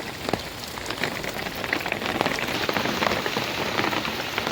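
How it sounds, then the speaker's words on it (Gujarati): Heavy monsoon rain pours down in a rural village near cotton fields, a dense, steady roar of drops striking surfaces, loud and close, continuous for the whole stretch with no voices. "વાહ જોરદાર વરસાદ પડે છે."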